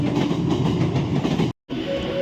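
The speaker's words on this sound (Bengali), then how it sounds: "এখন পাশে যে এক্সপ্রেস ট্রেনটি এই ট্রেনটি হলো হাওড়া রক্সাল এক্সপ্রেস দেখো পাশ দিয়ে যাচ্ছে" The Howrah Raxaul Express passes alongside with steady loud rumble and rattling wheels, broken by a brief total dropout before the clattering resumes, a faint whistle tone near the end.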